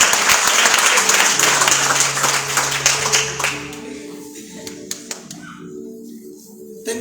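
A church congregation at Iglesia Aviva in Envigado, Colombia applauds loudly for several seconds, the clapping thinning into scattered claps with faint sustained tones and a few voices underneath.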